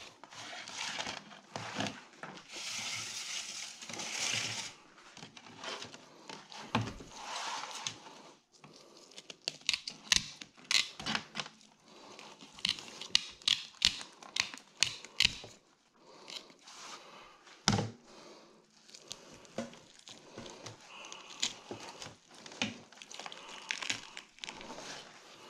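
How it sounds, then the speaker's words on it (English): Metal shears cut through the tough, scaly skin of a spotted gar with repeated crunching, tearing snips and rasping scrapes, close and crisp, in irregular bursts separated by brief pauses, with no talking. "These metal shears make short work of this guy."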